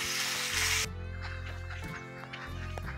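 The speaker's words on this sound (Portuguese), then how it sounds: "Deixa eu fritando aqui, que tá cozinhando uma carne de panela, carne bovina" Beef pot roast fries in a pan for a Sunday family lunch, a loud brief burst of sizzling that drops to a quieter, steady frying hiss over a low hum.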